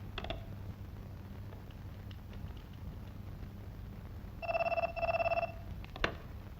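Two short bursts of an old-style telephone bell ringing close by, separated by a brief pause, over faint mechanical clicks and a low hum.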